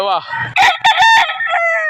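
A rooster crows once, loud and close, a long strained cock-a-doodle-doo that fills the whole moment.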